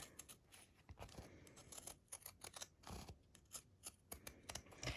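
Pinking shears snipping around fabric curves, a quiet string of rapid, irregular crisp cuts close by with no talking.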